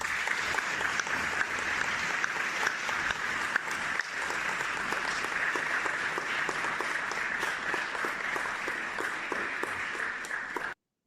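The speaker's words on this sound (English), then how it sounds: "Let's give him a round of applause for Mr. Dennis Byron" Sustained applause and clapping from an audience, dense and steady for about eleven seconds before cutting off abruptly at the end.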